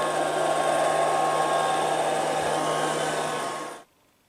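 A B3000 robot vacuum cleaner runs with a steady, close whirring hum that holds evenly, then cuts off abruptly into near silence.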